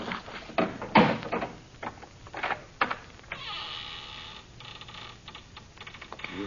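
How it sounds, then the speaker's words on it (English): Ancient door opened with a great old key in a radio drama, a run of clicks and clunks from the lock followed by a long creaking groan as the door swings, heard alone with no voices. "And open the door."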